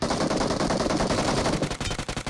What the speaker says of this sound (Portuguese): Vai sair atirando assim do nada, tá doido?